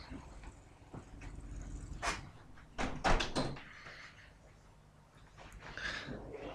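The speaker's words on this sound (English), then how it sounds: "I'm just going to close the back door" A house's back door thuds shut amid a few knocks and handling sounds, fairly quiet and close, with soft background noise.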